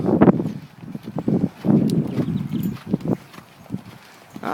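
Horse hooves thud on soft ground in a rolling three-beat lope, close and rhythmic, with faint rustling between strides.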